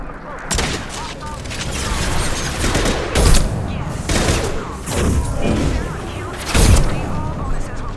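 Gunfire and ship weapon fire from a Krogan in the video game Mass Effect 2 during a combat firefight, with repeated loud blasts and bursts recurring over continuous battle noise.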